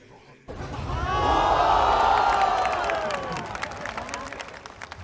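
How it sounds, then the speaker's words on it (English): A large crowd at a VALORANT Masters Tokyo esports match cheers and whoops, swelling quickly to a loud roar that holds and then slowly tapers off, with scattered clapping. "they're cheering for ASE right there"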